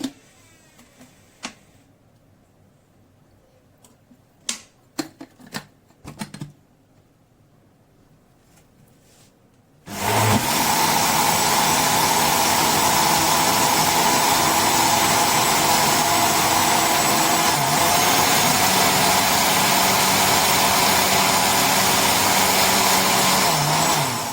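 A blender whirs loudly and steadily as it mixes a tahini salad, starting abruptly after a few quiet clicks and taps, then running continuously at close range with no talk over it.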